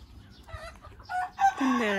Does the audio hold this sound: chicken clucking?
yes